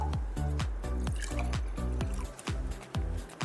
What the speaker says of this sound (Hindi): इसमें डाल रहा हूं पैकेज ड्रिंकिंग वाटर, ये दोनों में थोड़ा पानी डाल रहा हूं।